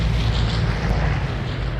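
A plane drones overhead in the multiplayer shooter Vigor, near a sawmill, as a steady, loud, broadband roar that holds for the whole moment without other distinct sounds.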